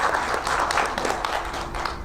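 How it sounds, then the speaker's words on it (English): Audience at a teachers' event in Pune claps in a dense, steady burst of applause, many hands close together filling the short span with no voices over it. "I think it calls for a lot of applause."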